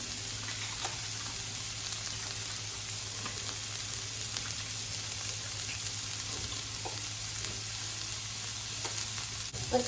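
Garlic fries in a hot pan with a steady, dense sizzle and crackle that stays loud and even throughout, with small pops now and then and no talking.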